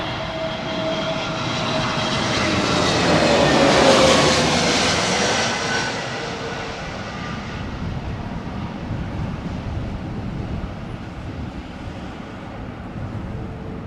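An aircraft taxiing at an airport on a gusty, windy day, its engine roar swelling as it passes nearby and then settling into a steady, broad rumble with wind noise on the microphone.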